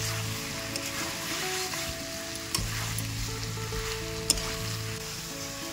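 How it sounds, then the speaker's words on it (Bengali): Jackfruit and potato sauté with goat fat in a pan, giving a steady, close sizzle throughout. A few faint clinks of stirring cut through it. No talking. "আমার এই চর্বি দিয়ে কিছুক্ষণ কষানো হয়ে গেছে, এবার আমি এই চর্বিগুলো এর মধ্যে দিয়ে দেবো। এটা দিয়ে আমি আরও কিছুক্ষণ কষিয়ে নেব।"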